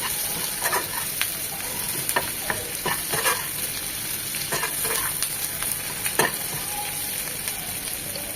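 Chopped onion salted and frying in a pan for a pointed gourd bharta hisses steadily up close, broken by frequent light scrapes and taps of a spoon stirring it.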